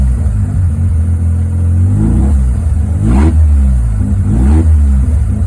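A Mazda 13B rotary engine with FiTech fuel injection idles with a heavy low drone, then stumbles and surges twice as the throttle is tipped in just above idle, recorded from inside the car.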